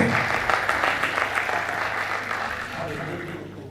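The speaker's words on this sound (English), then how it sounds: "Please another applause for the moderator." Steady applause from a conference crowd at a horticulture fair panel session, a dense wash of clapping that holds evenly and eases off slightly toward the end.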